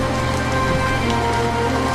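Heavy rain falls steadily in a cartoon village scene, a dense, continuous hiss of drops on surfaces, loud and even throughout with no voices.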